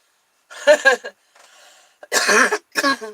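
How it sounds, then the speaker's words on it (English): Several rough, bursty coughs from a woman with sinus allergies, close and fairly loud, in two clusters separated by a brief quiet hiss, with no talking. "Don't mind me coughing."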